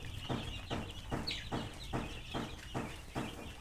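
Chickens feeding just after a Gumboro vaccine dose cluck softly and steadily, with a regular pulse of short calls and pecking sounds close by.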